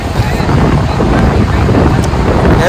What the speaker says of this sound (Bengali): কথাও শুনতে পারছেন কিনা বলতে পারবো না, যে পরিমাণে হাওয়া রয়েছে এখন